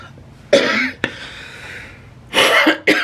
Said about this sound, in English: this cough does not want to leave me